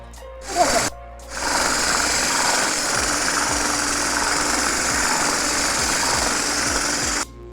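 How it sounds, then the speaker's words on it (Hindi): Electric hand beater whipping cream for a pineapple cake topping, a steady close motor whir with a rattling buzz running continuously after a brief clatter at the start, stopping abruptly near the end. "यहाँ पे मैं व्हिप क्रीम ले लूँगी और इसको अच्छी तरह बीट कर लेना है"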